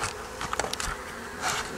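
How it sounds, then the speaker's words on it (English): Honeybees buzz in short bursts close by as their hives are transferred and freeform frames are moved, with brief lulls between swells of humming. "I'm transferring hives"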